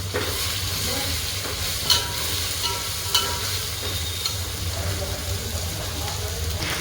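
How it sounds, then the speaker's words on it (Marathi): A spice masala with salt, turmeric and red chili powder roasts in a pan, giving a constant close frying hiss mixed with stirring scrapes and a couple of sharper clinks. "असा सगळा एकत्र मी मसाला भाजून घेतलेला आहे"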